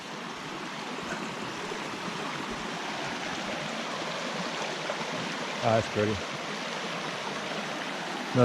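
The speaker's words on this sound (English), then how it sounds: "Let's check out this creek." A creek in Grand Teton, Wyoming, rushes and babbles steadily close by, with a brief spoken remark partway through.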